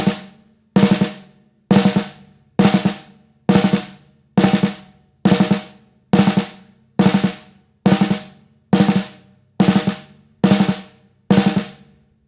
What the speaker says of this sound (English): if I drop the left stick slightly after the right stick, the rebound is naturally going to give me a quick group of 4 notes